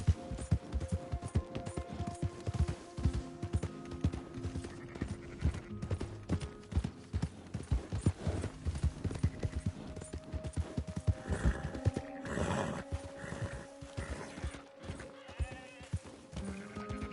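Horse hooves clip-clop steadily in Red Dead Redemption 2, mixed with repeated neighs, creaking and busy town background sounds, dense and continuous across the whole stretch, no talk.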